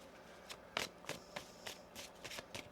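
Tarot cards being shuffled, a quick series of crisp riffling bursts close by with nobody speaking.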